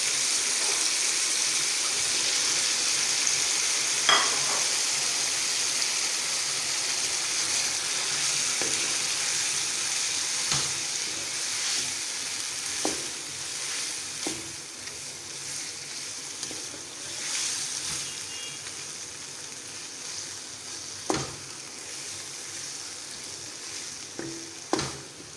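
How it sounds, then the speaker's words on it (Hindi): Chicken and cabbage frying in a pan give a steady sizzle throughout, with occasional faint clicks and stirring taps, and no voices. "अब हम इसको 10 मिनट अच्छी तरह भून लेंगे ताकि गोभी भी गल जाए और पक भी जाए।"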